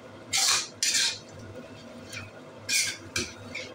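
A spoon stirring curd in a cooking pot: four distinct scraping swishes of metal against the pot, in two pairs separated by a short pause, close and clear with no talking.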